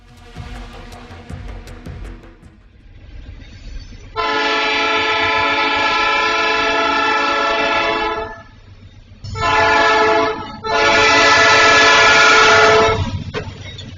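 A train rushes past a level crossing, its loud horn blaring in long sustained blasts broken by short gaps, over a rumbling, rattling rail noise that starts before the horn.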